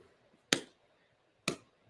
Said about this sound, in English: It might be a slower rhythm that I'm clapping now